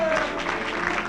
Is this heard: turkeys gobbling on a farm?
no